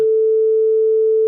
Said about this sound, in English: a 2-second sine wave.